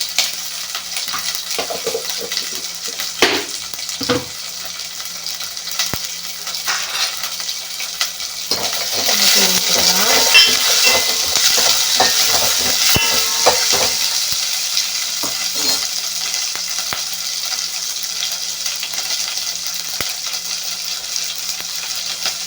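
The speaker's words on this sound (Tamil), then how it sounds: "கருவேப்பிலை கொஞ்சமாக போட்டுக்கிறேன்." Curry leaves sizzling in hot oil for sambar, a steady frying hiss that swells to a louder crackling burst midway, with occasional spoon scrapes and taps.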